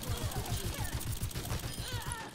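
Rapid automatic weapon fire in Overwatch 2 rattles steadily in quick regular shots, loud and close, with game effects layered on top and the player firing in scattered bursts.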